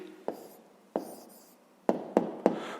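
A pen writes an answer by hand on paper in several short scratchy strokes separated by pauses, close and quiet.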